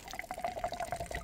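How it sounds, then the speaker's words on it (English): Water rushes from a hose up into the turbine of an irrigation sprinkler used for watering sweet corn, a steady close gurgling flow with small splashy surges and no talk. "That water shoots up in here. It comes out of this hose, shoots up in there,"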